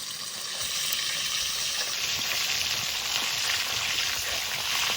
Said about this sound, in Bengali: ভালো করে তেল গরম করে নিয়েছি, তারপরে মাছ দিয়েছি